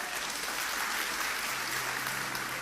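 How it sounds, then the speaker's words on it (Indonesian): A church congregation applauds for God during a sermon, a dense, steady wash of clapping that fills the short stretch with no pauses. "Kasih tepuk tangan untuk Tuhan."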